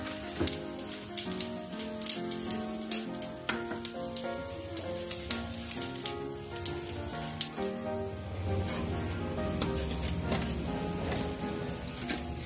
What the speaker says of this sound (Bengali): 5 ফোড়নটা দিচ্ছি কড়াই,